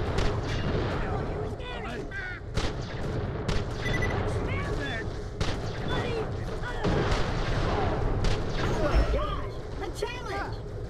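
Enemy gunfire from the shooter game Borderlands The Pre-Sequel, dense repeated bursts and booming shots throughout, with someone talking over the continuous combat noise.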